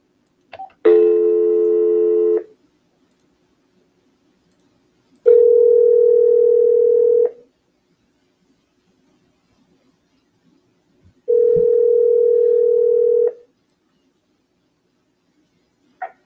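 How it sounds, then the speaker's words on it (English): Outgoing call ringback on a telephone line: three long, loud, steady tones, each about two seconds, separated by several seconds of silence, with no voices. "So we called Rena early on."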